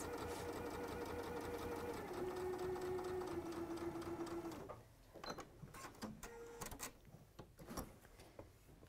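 A sewing machine stitches the corners of a sunflower quilt block in a steady run that slows in steps, then stops, leaving quiet handling clicks and faint movement.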